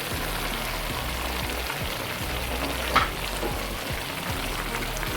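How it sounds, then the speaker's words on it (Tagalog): A steady sizzling, bubbling simmer of chop suey vegetables, with carrots and mushrooms, cooking in a pot, continuous and close, with one brief clink partway through. "Ayan, kumukulo na po siya."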